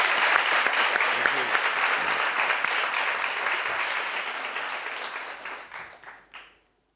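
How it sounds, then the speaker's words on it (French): Applause fills a hall at an award ceremony honouring a celebrated theatre figure, loud and dense at first, then thinning into scattered claps before stopping. "Sous vos applaudissements."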